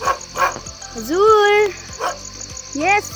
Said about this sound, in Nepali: कुकुर पनि रहेछ भुक्दैछ